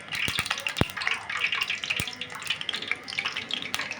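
Peanuts tipped into hot oil for frying palli pakodi, giving a steady bright crackle and sizzle throughout with a few sharper pops, close and fairly loud, no talking.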